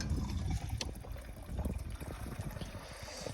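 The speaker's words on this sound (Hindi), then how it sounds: "अभी जैसे लोटे से इसमें जो है पानी भरेगा" Water pours from a lota into a bottle indoors during a supply shortage, a steady faint trickle and splash running continuously at close range with no speech.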